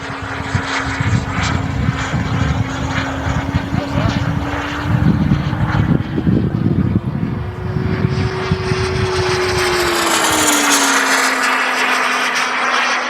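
A Boomerang Lancer RC jet flies at three-quarter throttle, its steady engine whine loud and continuous, shifting slightly in pitch as it passes, with a voice talking over part of it.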